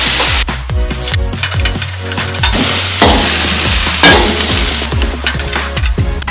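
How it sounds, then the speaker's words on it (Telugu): A spatula stirs onions frying with garlic paste, turmeric and coriander powder for an okra yogurt curry, giving loud, rhythmic scraping strokes over a constant close sizzle. "కొద్దిగా పసుపు, ధనియా పౌడర్ వేసి బాగా కలుపుకోవాలి."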